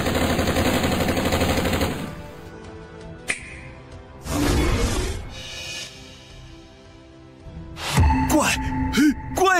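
Bursts of gunfire in a fantasy action drama, loud rapid shots mixed with dramatic music and effects, breaking off then resuming in a heavy barrage near the end.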